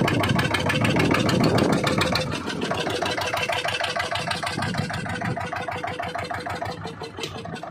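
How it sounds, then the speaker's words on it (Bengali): A motor boat engine drones steadily and loudly throughout while a captain steers a dinghy on the sea off the Andaman Islands during a fishing trip, the noise easing slightly toward the end. "এখনও আমাদের ক্যাপ্টেন চালাচ্ছে ডুঙ্গি"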